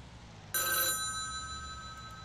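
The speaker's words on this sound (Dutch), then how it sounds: "Telefoon." A telephone rings once in the video game Farming Simulator 19, a loud, bright electronic bell lasting under half a second over low background hum.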